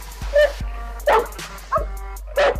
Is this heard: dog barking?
yes